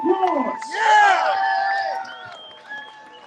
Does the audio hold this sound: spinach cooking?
no